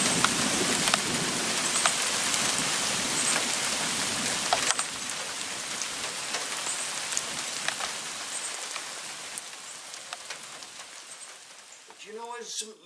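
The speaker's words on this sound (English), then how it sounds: "Rainy afternoon here in the middle of Tennessee." Steady rain falls on an afternoon in middle Tennessee, a dense continuous hiss of drops on surfaces that stays fairly loud throughout and eases slightly toward the end.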